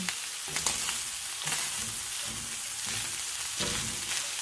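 Ground beef with tomatoes browning in a pan for spicy taco filling, sizzling loudly and steadily throughout, with a few brief stirring scrapes and no talking.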